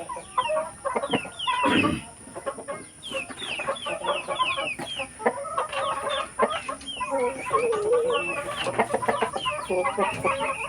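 Native chickens on a farm cluck in quick, overlapping bursts close by, with the flock's calls rising and falling and a louder squawk early on.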